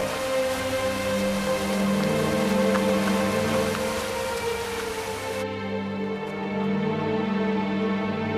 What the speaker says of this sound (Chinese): 还下雨